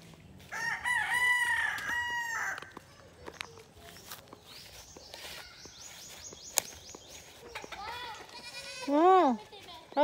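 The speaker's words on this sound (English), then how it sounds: "Look at the two goat, guys." Goats on a house-building site in the Philippines, bleating amid roosters crowing and people talking nearby, with a higher wavering cry toward the end.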